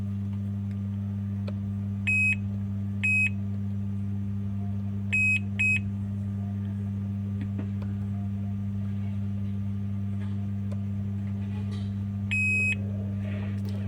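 Multimeter in continuity buzzer mode testing a mobile phone board for shorts: a few short, faint beeps, some single and some in quick pairs, over a constant low electrical hum.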